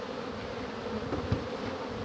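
Honeybees drone softly around a hive of raw comb, a faint steady buzz close by with a few louder passes.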